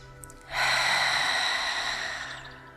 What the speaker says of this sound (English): all you have to do is take deep breaths